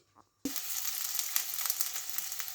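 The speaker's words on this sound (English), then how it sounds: "the first thing that we're going to do is to cook the onions and the garlic to soften it" Onions and garlic for an Afghani breakfast sizzle steadily in a frying pan, beginning abruptly after a brief quiet moment and continuing as a dense, even hiss with small crackles and no talking.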